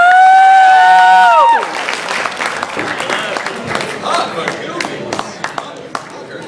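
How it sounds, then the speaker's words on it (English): Comedy club audience clapping and cheering for a stand-up comedian at Jokers Lounge, starting under a loud sustained musical tone, then carrying on as dense, lively applause with whoops and scattered individual claps. "Start clapping right now for Mr."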